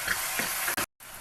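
Tomatoes sizzling in a hot pan while being stirred, a continuous close fry with a scrape of the spoon, cut off briefly by a short gap before the sizzle resumes.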